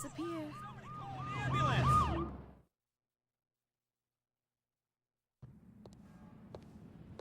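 Police car siren in a video game, a loud wailing yelp rising and falling rapidly for about two seconds before cutting to silence, then engine and street noise return.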